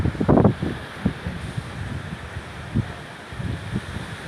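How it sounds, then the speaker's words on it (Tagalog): Strong wind from Typhoon Odette buffets the microphone in loud, uneven gusts. A heavy roar opens the clip, then the wind keeps surging and easing with rustling in the background. "So, napakalakas na hangin guys."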